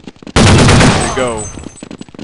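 A loud burst of gunfire erupts in Counter-Strike 1.6, a sudden blast that rings and fades over about a second, with other game sounds around it.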